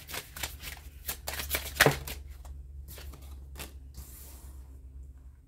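Oracle and tarot cards are shuffled close by, with fast riffling flutters and one sharp snap, then quieter slides and taps. No talk.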